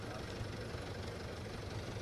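Tractors idle at a farmers' protest march with a steady low engine rumble that drones on evenly and quietly, without change in pitch, heard from a short distance.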